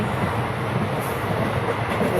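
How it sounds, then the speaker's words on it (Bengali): A passenger train in motion, heard from inside the carriage: a steady, even rumble of wheels and body noise that never lets up, with no talk. "ট্রেনে যাচ্ছি"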